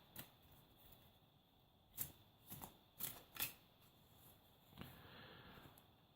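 Transparent plastic tarot cards are shuffled in a handful of quick, crisp riffling bursts, quiet and close, separated by short pauses in an otherwise still room.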